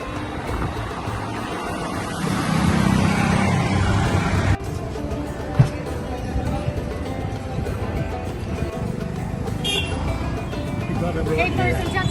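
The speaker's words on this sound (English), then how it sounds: "We're in a tuk-tuk." A tuk-tuk rattles through Old Delhi traffic with a constant rumbling engine and road noise, wind buffeting near the microphone, and a voice talking over it at times.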